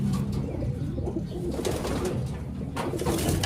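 A racing pigeon coos close by in low, steady, repeated murmurs over a faint background hum.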